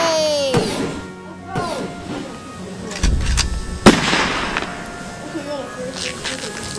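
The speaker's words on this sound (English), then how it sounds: "Yay, fireworks for hooray!" Video-game fireworks, celebrating arrival in New York after saving the Titanic, crack and pop in several loud bursts with whistling tails. People keep talking over them.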